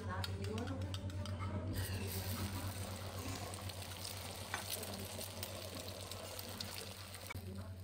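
Eggs frying in a pan at a breakfast in Bhutan, a steady broadband sizzle running throughout with a low hum beneath, while people talk nearby.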